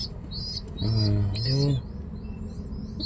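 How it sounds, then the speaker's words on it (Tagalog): A pigeon in a practice loft gives one close, low throaty coo of about a second, with chirping birds in the background and someone speaking briefly. "My new pigeon."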